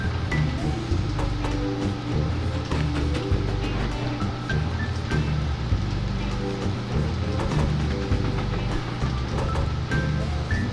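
Trains in the railway-building game Mashinky run around a corner of track, a steady, dense rumble with a repeating low clatter that continues evenly throughout and sits alone without voices.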